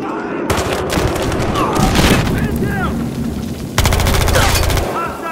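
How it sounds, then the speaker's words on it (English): A frag grenade detonates in Battlefield Hardline amid sustained gunfire, a loud booming burst with dense crackling shots and a renewed heavy blast near the end, all close and continuous under faint game voices. "frag grenade out!"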